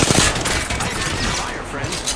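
Video game gunfire erupts as a rapid burst of close, loud shots with sharp cracks at the start, then thins into a rattling, mechanical clatter.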